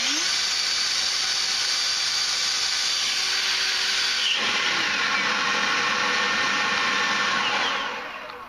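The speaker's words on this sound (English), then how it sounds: "Trying it out in my leaf blower." An Ego leaf blower in turbo mode, powered by a XAVITO 4Ah battery, spins up with a rising whine, then roars as a steady high-pitched rushing whoosh for several seconds before winding down at the end.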